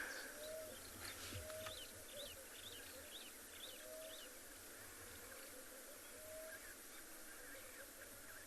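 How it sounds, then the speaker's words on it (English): A small Namaqua dove calls in the background of a South African safari afternoon, soft, hollow coos repeated at a slow, even pace, faint and distant, while other birds chirp and insects hum behind it. "The little Namakwa dove is calling in the background."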